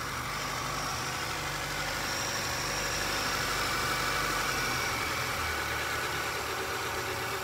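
A Kia Pride engine idles steadily and fairly quietly after its timing was adjusted, a constant mechanical hum running unbroken throughout with no talking.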